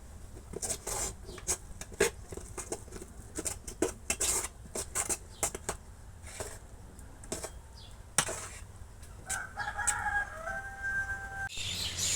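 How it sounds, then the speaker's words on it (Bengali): A rooster crows near the end amid scattered clucking and scratching of chickens in a village yard, with sharp taps and rustles throughout, fairly quiet overall. "এই যে আমার মুরগিগুলো সারাদিন দৌড়াদৌড়ি করে ঘুরে বেড়ায় বাড়িতে থাকে না"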